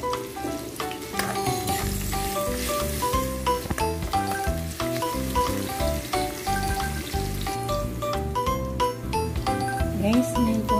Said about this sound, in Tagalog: Ngayon po ilagyan natin mantika yung kawali. Lagay po natin yung sibuyas.